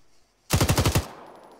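A machine gun fires in a video game, one short burst of about six rapid, loud, evenly spaced shots that breaks a near-silence and then gives way to a faint tail.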